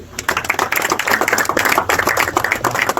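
Applause from an audience at a school prize-giving ceremony after a class 9 winner of the 200-metre flat race is announced, a dense steady patter of many hands clapping throughout, fairly loud and close.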